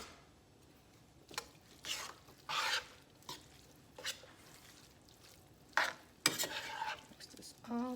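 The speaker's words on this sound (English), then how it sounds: "I'm just going to mix this together" A spoon stirs Mexican-style stuffed bell pepper filling in a skillet, giving bursts of scraping and clinking against the pan with short pauses between strokes over a faint sizzle, close and fairly quiet.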